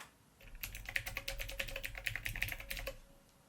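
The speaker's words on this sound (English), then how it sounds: "It's mechanical keys that give you that clicky clacky sound that you know with your mechanicals." Clicky mechanical keys on a Divoom Ditoo Bluetooth speaker clatter in a quick, uneven run of typing strokes, close and fairly quiet, stopping after about three seconds.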